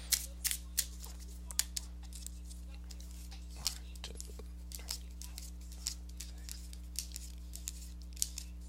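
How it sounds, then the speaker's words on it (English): Tarot cards flick and riffle in quick, soft bursts, a faint papery patter close by over a low steady hum. "let me go ahead and give these cards a shuffle"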